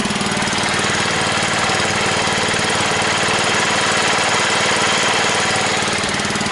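A Kohler K141 small engine on a Bolens Husky 600 garden tractor runs steadily at close range, a dense, even mechanical drone with a rapid low throb and no pauses.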